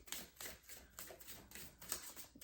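Quiet, rapid riffling and clicking of cards being shuffled, a string of soft flutters repeating in quick bursts.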